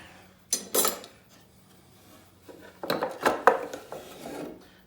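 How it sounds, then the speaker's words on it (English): A metal spoon and fork are handled up close, giving a few short clinks and scraping rubs in separate bursts with quiet gaps between. "And I got a spoon and a fork."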